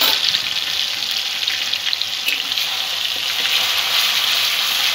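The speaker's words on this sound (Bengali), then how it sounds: "পেঁয়াজটা একটু ভেজে নেব।" Onion, ginger and garlic paste frying in a pan over low to medium gas flame for a rohu fish curry, a steady close sizzle throughout with faint stirring scrapes.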